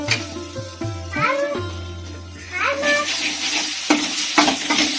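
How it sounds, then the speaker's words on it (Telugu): Tomato masala frying in oil in a pan for a fish curry, a soft steady sizzle with stirring scrapes throughout, while someone talks over it and a voice chimes in now and then. "ఆ విధంగా వేగిపోయేంత వరకు వేయించాలి"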